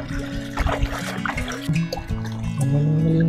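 Clean water trickling and splashing as it is poured, close and uneven dribbles with a rising filling tone toward the end.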